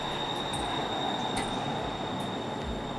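A Bangkok SkyTrain passes with a steady rumbling roll of wheels on elevated track, a high electric whine held throughout and brief squeals, continuous and fairly close with no voices.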